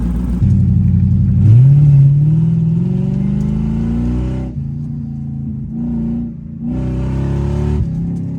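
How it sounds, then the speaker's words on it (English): Lexus car engine revving and pulling as it accelerates down the road, checked for misfiring: a loud, close engine note rising steadily in pitch through the gears, with brief dips between shifts. "We're gonna jump into Lexus and probably take it down the road, see if it's still misfiring"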